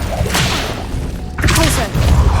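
Confringo blasting spell in Hogwarts Legacy: loud magical whooshes and blasts in two surges, with thuds and crackling impacts in a busy combat scene.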